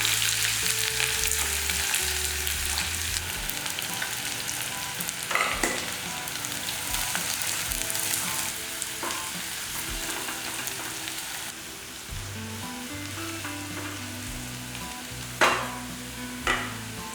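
Sliced onions frying in a pan for tomato egg gravy, a steady close sizzle with occasional stirring scrapes and clinks, continuous and fairly loud with no talking.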